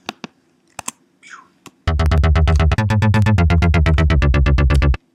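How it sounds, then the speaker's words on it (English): Chopper-style synth evoking a Huey helicopter pounds out rapid, evenly spaced loud pulses for about three seconds, following a few sparse clicks and a brief soft sweep, then cuts off abruptly. "the chopper sort of sounding synth that I was using in my complextro tutorial."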